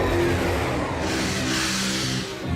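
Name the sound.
Slugterranean Express train in a cartoon cave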